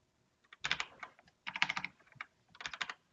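Quiet bursts of typing on a computer keyboard, three short clusters of rapid key clicks separated by brief pauses, close and fairly soft.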